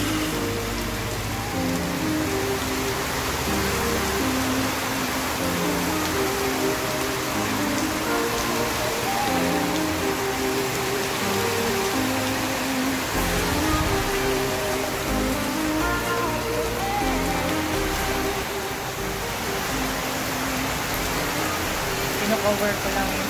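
Heavy rain pours down steadily and loudly in Luzon, Philippines, a dense unbroken hiss that lasts throughout with no pauses.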